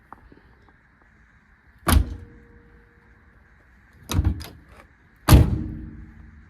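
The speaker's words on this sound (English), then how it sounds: "This door shuts perfect." A Volkswagen Beetle's car door slams shut three times, each a solid heavy thud with a metallic rattle, separated by quiet pauses.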